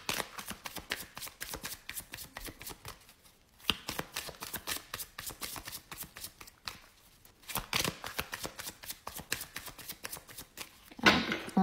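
A deck of tarot cards is shuffled close up for a reading, giving long runs of rapid soft riffling flutters with brief pauses between bursts and a final louder card handling, with no talking.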